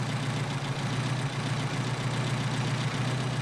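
A Mercedes 190SL engine with Solex PHH44 carburettors idling steadily, a dense constant rumble with a firm low drone and even texture, close and loud with no voices.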